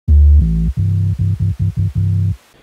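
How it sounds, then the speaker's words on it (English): A deep bass sample from a drum kit in a phonk beat plays a short line of booming low notes: one long note, then a series of quick, punchy hits ending on a sustained tone, loud and alone. "Now for the bass, I want you to pick a bass that sounds like this."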